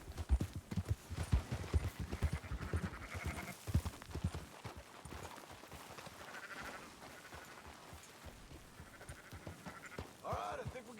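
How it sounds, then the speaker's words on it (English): In Red Dead Redemption 2, horse hooves clip-clop in an uneven rhythm while sheep bleat now and then close by, with a few brief voices mixed in. "О, еще овцы."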